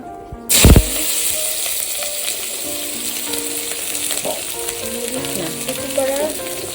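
Chopped onion and green chilies drop into hot oil with a loud initial splash, then settle into a steady, close crackling sizzle that continues evenly with faint stirring clinks.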